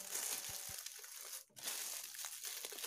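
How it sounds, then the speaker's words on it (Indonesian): Plastic sheeting crinkles and rustles continuously up close as it is wrapped and tied around onion slices on bare feet, with a brief pause in the middle and no talking. "terus dibungkus sama plastik, diikat tapi nggak usah kenceng-kenceng ya"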